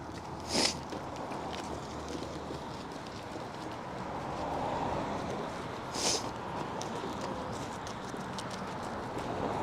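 Footsteps crunch along a street in midtown Toronto in January, a steady soft shuffle under a constant outdoor wash of traffic noise, with two brief louder hissing bursts standing out.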